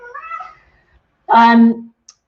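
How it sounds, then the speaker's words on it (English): A kitten gives two short meows close by, the first softer and rising, the second louder and drawn out, with a tiny click at the end. "I think you can hear my kitten behind me now."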